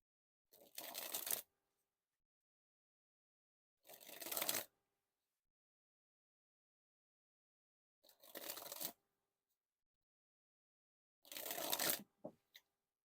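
Theory11 Stranger Things playing cards being dribbled from hand to hand: four separate fluttering bursts, each about a second long and close up, with silent pauses between them and no talk.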